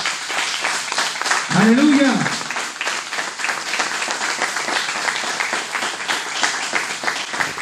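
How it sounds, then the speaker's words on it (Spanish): Church congregation applauding the Lord during a sermon, sustained dense clapping throughout with a loud shouted exclamation rising above it early on and voices mixed in. "¿No le querés dar un aplauso al Señor?"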